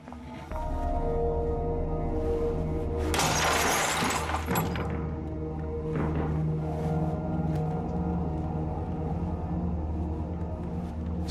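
A loud crash of shattering glass as a thrown rock smashes through a window, followed by tinkling fragments over a steady low background hum.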